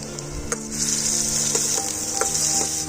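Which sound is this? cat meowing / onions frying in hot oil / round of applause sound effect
onions frying in hot oil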